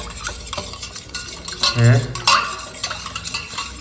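A metal spoon stirs a salted juice drink in a glass, making quick, close clinks and swirls with one louder scrape near the middle.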